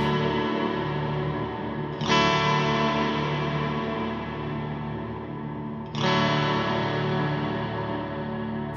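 Eventide Eclipse effects unit running a reverb patch over a sustained tone, with dense washy tails and two sudden loud parameter jumps, like a room-size change, near the two- and six-second marks.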